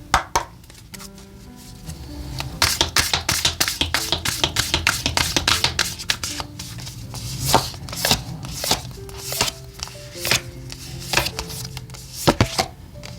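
Oracle cards being shuffled by hand in a quiet room: a rapid run of crisp, close riffling card taps that thickens into a dense burst, then breaks into scattered single snaps and flicks, with no voices.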